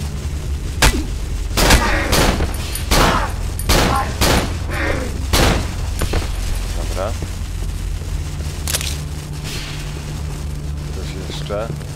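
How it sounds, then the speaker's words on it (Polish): Gunfire in the Cry of Fear horror game: a rapid run of sharp, loud shots crowds the first half and then thins out to a few isolated bangs, with a steady low hum underneath. "kolejny strzał ze strachu"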